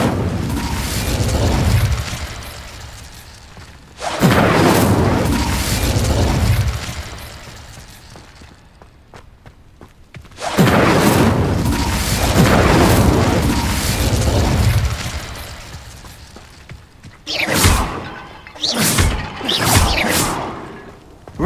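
Incendio fire spell cast in Hogwarts Legacy on PS5, heard as two loud whooshing fiery bursts several seconds apart, each swelling and fading, followed by a cluster of sharper pops near the end.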